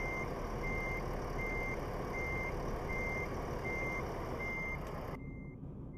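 In Euro Truck Simulator 2, a neon yellow truck reverses in the snow, sounding a steady string of evenly spaced electronic beeps over a low engine rumble until the sound cuts off near the end.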